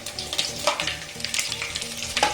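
Biryani spices frying and sizzling in a hot pan, a steady crackling hiss with small pops and occasional stirring scrapes throughout, close and fairly loud with no talking.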